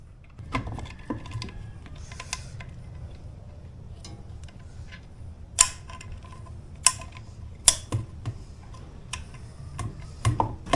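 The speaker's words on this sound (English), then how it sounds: "I lied. We're using a crescent wrench." Crescent wrench working oil line fittings on a 1970 Suzuki TC-120 motorcycle: sparse, close metallic clicks and clinks that turn sharper and more frequent toward the end, with no speech.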